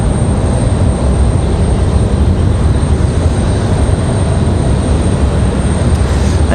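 An Airbus A320 departing Raleigh-Durham International Airport gives off a loud, continuous, rumbling jet roar, heavy in the low end and steady with no break.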